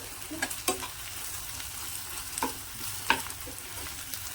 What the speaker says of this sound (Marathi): आलं लसूण आहे ना एखाद दुसरा मिनिट परतून घेतलं